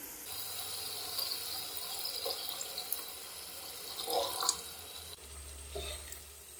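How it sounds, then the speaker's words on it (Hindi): Water runs from a glass into a pan of peas and minced meat for matar keema, a thin splashing pour heard close up in short uneven bursts without any talking. "अब हम 1 गिलास के करीब पानी ऐड करेंगे ताकि मटर और कीमा अच्छे से गल जाए"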